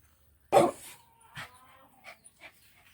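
A three-year-old male long-coated Pomeranian Spitz gives one sharp, close bark, followed by a few softer, short yips or pants that trail off into quiet.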